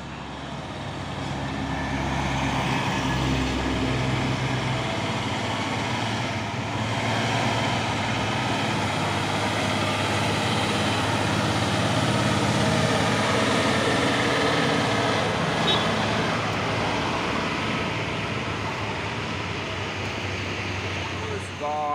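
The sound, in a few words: Hino trailer truck engine on the road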